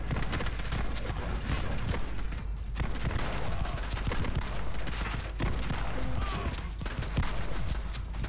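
Repeated gunfire from a video game gun in a prison-cell level of The Club, rapid bursts of shots running throughout, fairly loud with brief gaps between volleys.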